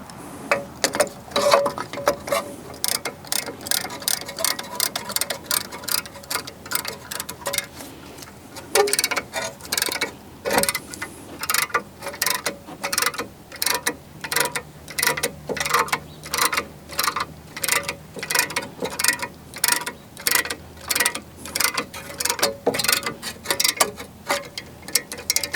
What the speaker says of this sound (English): I'll show you once with the caliper piston tool I have